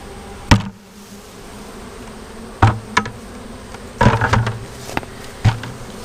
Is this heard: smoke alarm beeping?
no